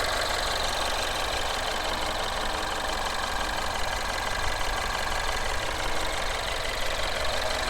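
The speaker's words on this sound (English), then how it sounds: "Small turbocharged 4-cylinder engine." The small turbocharged four-cylinder engine of a 2012 Mini Cooper S Countryman idles steadily close by, a constant dense whir and hum with a faint ticking texture and no talking.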